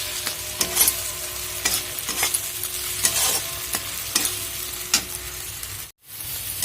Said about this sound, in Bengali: এরপর আদা টমেটো আর কাঁচা লঙ্কার একটু সর্ষে পেস্টটা দিয়ে দিলাম একটু নাড়াচাড়া করবো